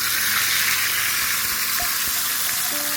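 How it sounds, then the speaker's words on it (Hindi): Dry red chilies sizzle in hot oil as a tadka tempering for Hyderabadi tomato kut, a close, steady crackling fry with no voices. "इसमें ड्राई रेड चिलीज, थोड़ा सा करिया पाउडर, स्टोव बंद करते हैं।"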